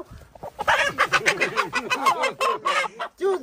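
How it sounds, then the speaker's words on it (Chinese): A big, fat rooster being caught by hand lets out a rapid run of loud, close, agitated clucks and squawks, nearly a dozen in quick succession, then one last squawk after a short pause. "哇这一只大公鸡又大又肥"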